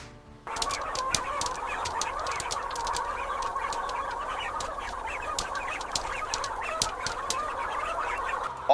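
Dense flock of chickens clucking and squawking on an industrial poultry farm, a constant, crowded din with sharp overlapping calls throughout and no talk.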